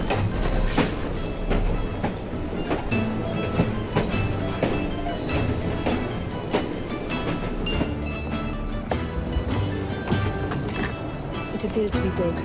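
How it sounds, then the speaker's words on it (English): A train rolls along in Assassin's Creed Syndicate with rhythmic clickety-clack clatter and metallic clanks, steady throughout, mixed with game sounds and speech. "at least we have a train now"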